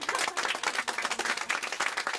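Church congregation clapping together during a sermon, a dense, continuous wash of many hands at moderate loudness with no pauses.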